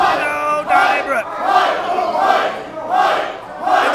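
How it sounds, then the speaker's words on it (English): A wrestling crowd at an indoor event screams and cheers in loud surging waves, voices rising and falling together across the arena. "And the crowd feeling it right now. They are screaming right."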